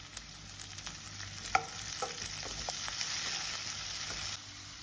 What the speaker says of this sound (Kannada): ಇದು ಬ್ರೌನ್ ಕಲರ್ ಬರೋವರೆಗೆ ಹುರಿರಿ